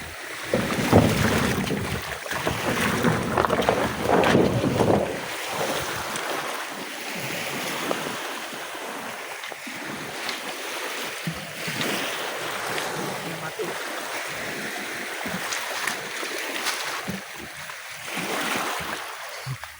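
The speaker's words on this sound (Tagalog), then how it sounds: "Ang bangka namin kaliit lang." A small boat motoring over water, with steady broadband engine and wash noise, wind and lapping waves throughout; a voice is briefly heard in the background.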